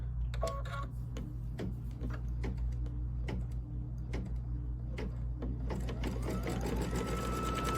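A sewing machine stitches a placement line on a gray dot mug fabric square, running steadily with a fast mechanical rattle and regular ticking clicks, close and continuous.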